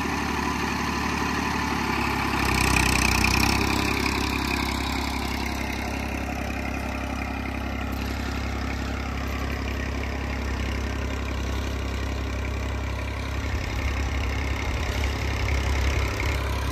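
A Massey Ferguson 241 tractor engine runs steadily with a tiller attached, a continuous close, mid-loud diesel chug with a slight rise early on and no talk over it.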